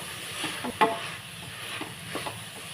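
Vegetable pulao masala mixed with biryani powder fries in a pan, giving a low steady sizzle broken by a few soft spoon scrapes, one sharper knock near the start and fainter ones later.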